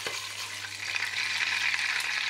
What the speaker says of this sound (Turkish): Yaklaşık yarım yemek kaşık tereyağını kızdırıyorum, eritiyorum.